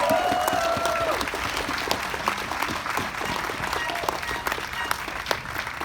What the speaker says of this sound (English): Let's give another round of applause to Mary Lynn